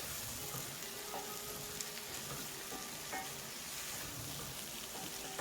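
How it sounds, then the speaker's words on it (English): Eggplant, potatoes and peas cook together in a pan with a steady, even sizzle and light crackling from start to finish, and no talking. "So as my eggplant and potatoes are nicely cooking here together, I'll add half a cup of peas that I cooked earlier and mix everything together here."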